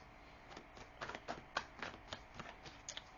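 Tarot cards are shuffled and drawn by hand in a quiet room, giving a run of soft, close papery flicks and slaps at an uneven rhythm.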